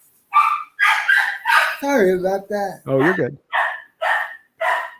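Dogs barking at a delivery arrival, a rapid run of loud, close barks and yips that overlap with a man and another person talking during a casual conversation.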